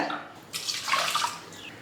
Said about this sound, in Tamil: இப்போ தண்ணி சேர்த்துடலாம் கொஞ்சமாக உப்பு சேர்த்து வேக வச்சுக்கலாம்